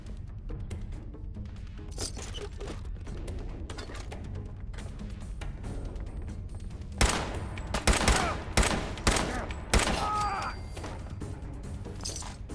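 Video game combat with gunfire: faint background shooting, then a cluster of sharp, loud shots and bursts in quick succession, some with a shattering edge, before fading back to quieter firing.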